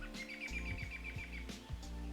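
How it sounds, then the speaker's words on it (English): Birds in the video game Open Fishing XL chirping in a quick, repeated series of short bright tweets over a steady low ambient hum, moderately near and without talk. "Oh, hey, look, a bird."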